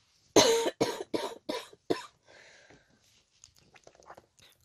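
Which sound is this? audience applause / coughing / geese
coughing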